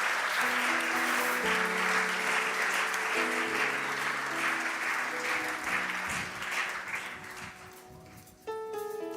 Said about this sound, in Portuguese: Aplaudam forte ao Senhor.